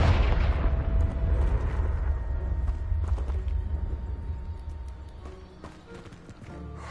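In the Hogwarts Legacy video game, a Confringo blasting spell lets out a heavy, booming explosion that rumbles and slowly fades over several seconds, with scattered debris clatter near the end.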